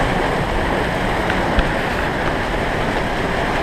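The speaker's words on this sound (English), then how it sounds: "we've got a nasty storm blowing over us" A nasty storm sends wind and waves around a sailboat anchored off Cuba, making a constant roaring wash of gusts and water with no voices.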